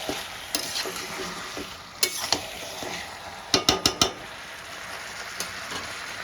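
Chicken and potatoes are stir-fried in a pan over a continuous soft sizzle, with a spatula scraping and clanking against the metal in sharp strokes, including a quick run of four knocks.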